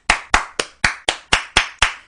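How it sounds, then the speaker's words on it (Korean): A single pair of hands claps eight times in an even, brisk rhythm, loud and close, as applause at a rally supporting Samsung Electronics service union workers. "우리 삼성전자 서비스 지회 노동자들을 위해서 박수 한번."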